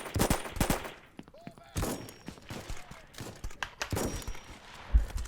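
Gunfire in a VR shooting game played with a 3Daptive Modus V2 gunstock: scattered bursts of sharp shots, some rapid like automatic fire, with a voice talking between them.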